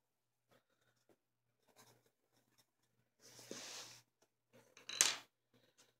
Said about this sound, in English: I'm going to just write with one of these really quick to see how they write as well.